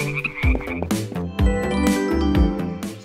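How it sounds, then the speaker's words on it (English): A barking tree frog croaks loudly several times in a row, set against bright chiming, tinkling music notes. "Barking tree frog."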